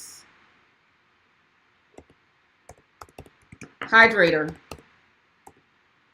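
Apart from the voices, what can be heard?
typing on a computer keyboard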